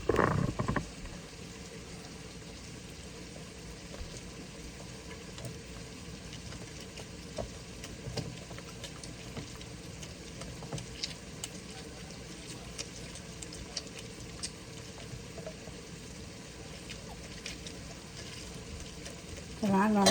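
Spices fry quietly in oil inside an Instant Pot for shrimp biryani, a low continuous sizzle with faint stirring clicks throughout.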